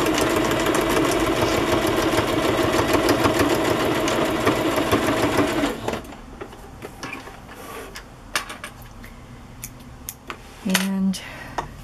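A sewing machine stitching Kantha quilt pieces together for a journal cover runs in a loud, steady whir for about six seconds, then stops, leaving light handling clatter.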